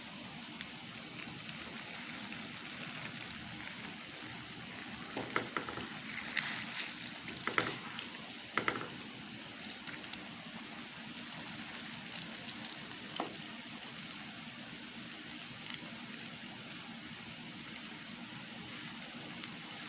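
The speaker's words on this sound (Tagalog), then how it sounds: "Nagbabol na, guys." Sugar syrup bubbling in a pan while cooking caramel for turon, a faint steady crackle and fizz with occasional sharper pops, heard alone.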